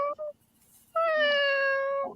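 Domestic cat named Munch meows twice, one short call and then a longer, drawn-out meow, close by and clear against a quiet room.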